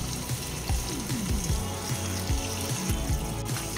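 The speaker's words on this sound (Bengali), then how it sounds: "এবার মাংস সিদ্ধ হওয়ার জন্য আমি এখানে আন্দাজ মতো গরম জল দেব।" Hot water poured into a pan of mutton cooking in released oil for mutton do pyaza, a steady close splashing and sizzling wash with bubbling throughout, no voices.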